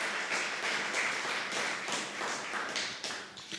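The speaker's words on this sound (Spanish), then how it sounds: "Puedes darle un aplauso a Cristo, porque nos ha dado una vida mejor" Church congregation clapping, dense rhythmic applause with loud, fairly even beats, close and alone with no talk.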